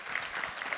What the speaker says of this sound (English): and an applause for Jürn, we didn't have one